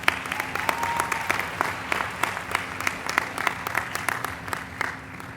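Audience applause at a student academic excellence awards ceremony, a dense, steady round of clapping from a crowd in a hall, lasting throughout at moderate loudness.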